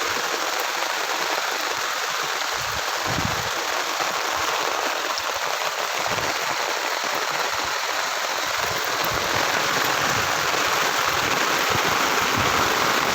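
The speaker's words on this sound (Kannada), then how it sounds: "ಮಳೆ 2 ದಿನದಿಂದ ಸಿಕ್ಕಾಪಟ್ಟೆ ಮಳೆ" Heavy rain outdoors in a village, a dense, steady hiss with no letup, lasting the whole stretch, with faint low rumbles now and then and no speech.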